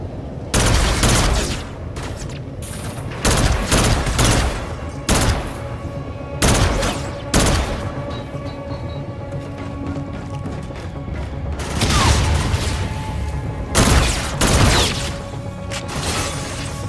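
Heavy gunfire in Call of Duty: Infinite Warfare fires in loud, close bursts separated by short gaps, with booming impacts and mechanical clatter in between.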